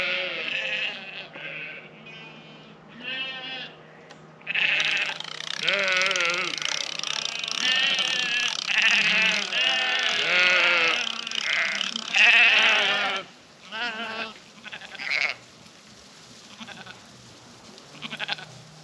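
Sheep bleating as they come running toward fresh grass behind a smart fence on a farm, a flock's overlapping cries, some near and loud, others farther off, with brief pauses and a faint mechanical whine early on.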